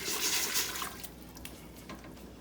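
Water pours into a pot for pickling liquid, a loud rushing splash at first that thins out into quieter trickles.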